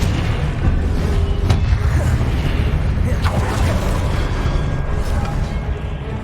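Confringo blasting-spell explosions in Hogwarts Legacy on PC: several loud booming bursts, spaced a second or two apart, over a dense, rumbling battle background.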